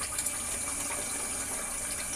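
Cold water runs steadily from a tap at a bathroom sink before a straight razor shave, a constant hissing flow with no pauses or talking.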